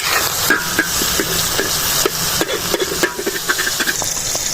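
Onions and tomatoes frying on a tawa for keema, a loud continuous hiss and sizzle with occasional scraping taps of a spatula stirring close by.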